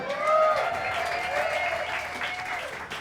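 A full house at a Saturday-night jazz concert in the Jazz Maui Music Series claps loudly and continuously, with tonal whoops and cheers rising above the applause.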